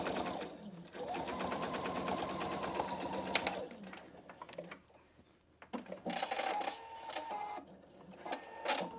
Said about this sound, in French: Donc là, on va tout simplement faire la couture.